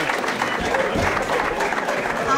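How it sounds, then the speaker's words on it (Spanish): Crowd applause at a party welcoming late arrivals, a dense steady clapping throughout, with voices mixed in. "Estos aplausos son para ti."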